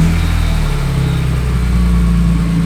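A BMW E46 M3 engine runs steadily close by with a low, even rumble while warming up, holding a constant idle without noticeable revving.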